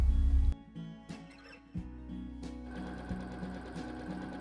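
A sewing machine stitches a facing onto a dress neckline in a 4C poplin garment, whirring close and steady after a few short starts and stops, with a continuous motor hum under the needle's rapid clatter.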